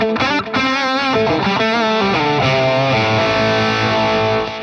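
Electric guitar run through an echo platter effect with mild overdrive, playing a short, loud phrase of sustained, repeating notes with a wet, slightly distorted tone.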